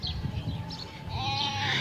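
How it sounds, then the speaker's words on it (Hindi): Goats bleat in a village lane, a few wavering calls rising over a steady outdoor background, moderately close with no talk. "ये मैं आगे जा रही थी और बकरी इधर को आई थी"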